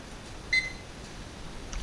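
A single short electronic beep from a timer set on the stove during pressure canning of beef stew meat in an All-American pressure canner, brief and moderately clear over a quiet background.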